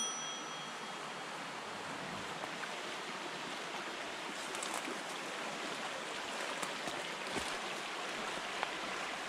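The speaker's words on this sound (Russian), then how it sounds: "Вот он наш ручей." A swollen stream in the wet season runs high with plenty of water, giving a steady, soft rushing wash that stays even and fairly quiet throughout, with no voices.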